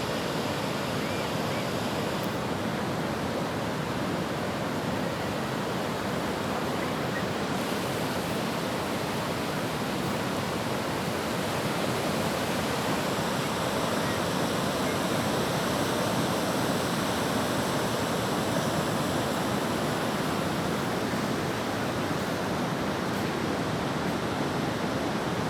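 Continuous broadband roar of morning surf at Karangpakis beach after a night of rain, waves washing steadily without clear breaks, loud and close, with no voices over it.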